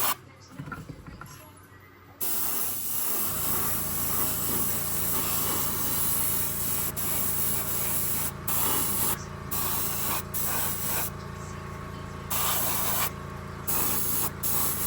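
An airbrush sprays Createx paint in light coats at about 25 to 28 psi onto the hood of an MPC Raiders Coach model kit, a steady close hiss that starts after a couple of seconds and runs continuously with slight flutters.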